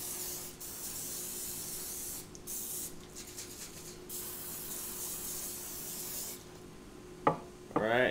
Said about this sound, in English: We're going to spray it all.